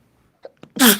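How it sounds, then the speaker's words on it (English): A single sharp sneeze from a man bursts out close and loud after a couple of faint intake sounds, alone with no talk over it. "That was a sneeze."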